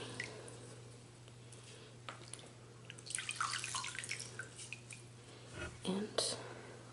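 Wet tissues are squeezed out over a dish of salt water: soft, close squishing and trickling drips in a quiet room, with faint whispering nearby.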